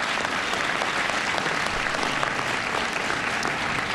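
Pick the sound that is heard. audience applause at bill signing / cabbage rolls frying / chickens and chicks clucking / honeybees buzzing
audience applause at bill signing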